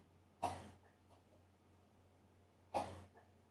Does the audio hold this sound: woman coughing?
yes